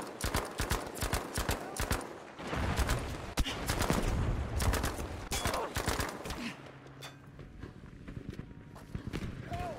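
Rapid bursts of gunfire from an online multiplayer shooter match, crackling in repeated clusters amid busy game noise, with players talking over the action.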